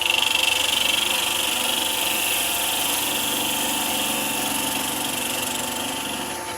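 A skew chisel used as a scraper on wood spinning on a lathe while turning an offset pendant, a continuous whining motor hum with a steady high scraping tone that slowly fades.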